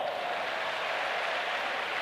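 Audience applause greets a highly educated man as he arrives at a religious gathering: a dense, steady wash of many hands clapping at close range, with no voices over it.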